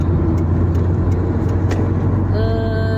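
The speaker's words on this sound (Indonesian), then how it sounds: "Ini kalau perjalanan malam emang banyak truk dan banyak mobil-mobil besar nih guys" A car drives at night on a toll road among trucks and large vehicles, with a steady low engine and road rumble heard from inside the cabin and a faint tonal hum rising near the end.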